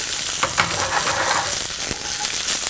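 White turnips cut into half moons and beets being tossed in a hot pan, a dense close sizzle broken by a few soft knocks and scrapes of the vegetables shifting.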